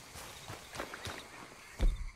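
Soft hoof footsteps from a horse in Red Dead Redemption 2 tap in an uneven rhythm, faint and close, ending with a heavier thud.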